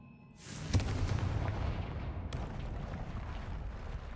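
In the Hogwarts Legacy video game, a Confringo fire spell hits with a sudden booming blast, followed by a sustained rumbling roar that lingers for several seconds.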